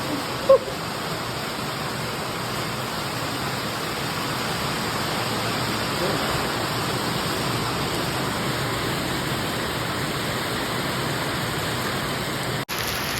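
Heavy rain pours steadily, a dense, even roar of water hitting surfaces with no pauses, close and loud throughout.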